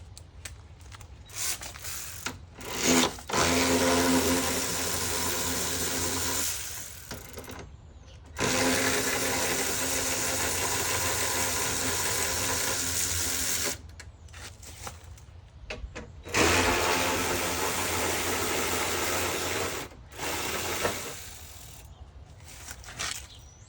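Car parts come off a Ford Fusion reinforcement bar with 10 mm and 8 mm sockets. Several long, loud mechanical whirring bursts are split by short pauses, like a powered ratchet spinning fasteners out.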